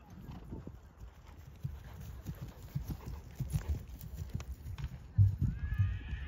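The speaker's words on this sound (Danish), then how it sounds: "Der er lige en hest i dyrlægetjek." Horse hooves clip-clop on firm ground at a veterinary inspection during an eventing competition, with an irregular trotting rhythm at close to middle distance and faint voices and a brief whinny in the background.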